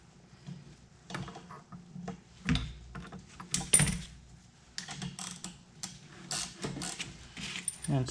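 Wrench tightening the rear shock nut on a MK6 Ford Fiesta: quiet, irregular metallic clicks and ratcheting taps in short clusters, close by with no talk.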